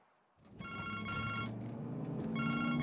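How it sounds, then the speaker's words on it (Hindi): A telephone rings in a dubbed South Indian film scene, its bright repeating electronic trill sounding in two bursts over a steady low hum, fairly close and clear. "फोन उठाकर बात तो कर।"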